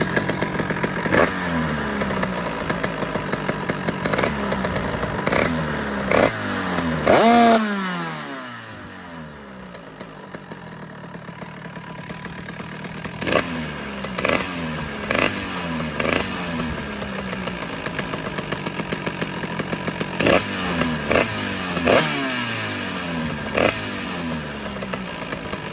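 A nearby Beta track motorcycle engine revs repeatedly, each throttle blip rising in pitch and dropping back to a lumpy idle between bursts.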